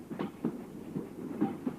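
A moving train carriage rattles and clicks over rail joints in a soft, steady rhythm, heard from inside the car as a faint continuous rumble.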